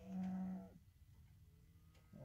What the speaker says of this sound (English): The cows are wondering if I'm there, if I'm going to feed them.